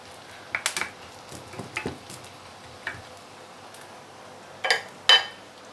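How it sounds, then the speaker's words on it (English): Dried anchovies deep frying in heated oil over medium-low heat are stirred, bringing sparse, light clinks and scrapes of a utensil against the pan above a soft, quiet background. "and you need to keep on stirring."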